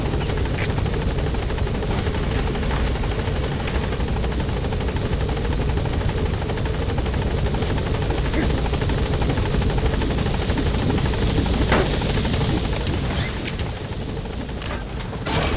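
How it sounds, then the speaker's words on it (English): A helicopter hovering near a landing zone in the video game Metal Gear Solid V, its loud, continuous rotor roar and engine whine dominating the scene steadily throughout, with a few faint background clicks. "On station at LC! Is an obstruction at the LZ preventing me from landing."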